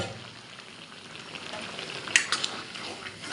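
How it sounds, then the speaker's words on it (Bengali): Chopped taro leaves go into hot oil in a pan for a Bengali dish, giving a soft steady sizzle that swells into crackling pops and spits near the end. "এবারে কচু শাকগুলো ঢেলে দেব।"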